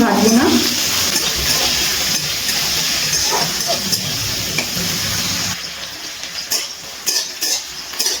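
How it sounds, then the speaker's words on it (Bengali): Drumsticks (sajne data) frying lightly in hot oil for shukto, a loud close sizzle with stirring clatter, the frying fading to quieter scrapes and clinks of a utensil against the pan. "এবার সজনে ডাঁটাটা হালকা করে ভেজে নেব"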